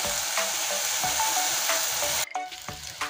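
Pieces of gathi kochu taro sizzle and crackle loudly in hot oil in a pan, a steady hiss broken by stirring scrapes and a brief drop where the spoon moves the pieces.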